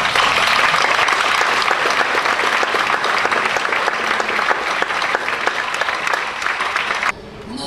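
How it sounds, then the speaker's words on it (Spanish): Loud applause from a Spanish-speaking audience at a university-related gathering, sharp claps packed densely for about seven seconds before dropping off abruptly. "un aplauso bien fuerte"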